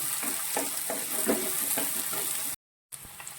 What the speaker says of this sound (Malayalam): ഈ ചുവന്നുള്ളിയും കൂടി ഇട്ട് നന്നായിട്ട് ഇതൊന്ന് വഴറ്റാണ് നല്ലതുപോലെ വഴറ്റണം